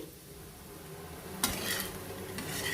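A dry chicken fry seasoned with salt and pepper powder gets a final stir in a pan, starting as a faint low sizzle before louder scraping stirs break in near the middle and again toward the end.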